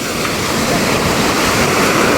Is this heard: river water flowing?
yes